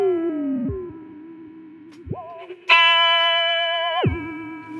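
An Electro Harmonix Ring Thing ring modulator pedal turns sustained notes into bright, metallic, distorted tones. They shift pitch in sudden steps and hold steady with no one speaking.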